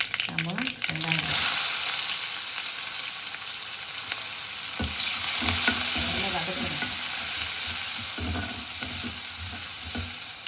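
Onions fry in hot oil after mustard seeds have spluttered, a base for sambar with drumstick, brinjal and mango; a dense, continuous close sizzle with crackling and occasional stirring scrapes, no voices.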